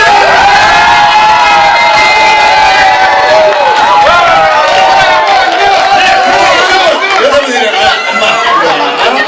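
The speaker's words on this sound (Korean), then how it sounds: "여러분 큰 박수와 함성으로 강의를 환영해주세요." An audience at an indoor lecture on mandarin fish fishing cheers and claps loudly and steadily, with shouts and chatter mixed into the continuous roar of the crowd.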